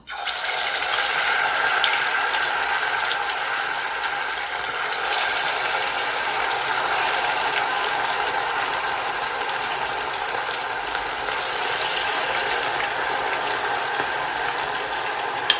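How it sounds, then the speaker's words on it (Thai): Pork slices frying in hot oil give a loud, continuous crackling sizzle that stays even throughout, with no voices. "ทอดเลยนะจ้าน้ำมันก็ร้อนแล้วค่ะ"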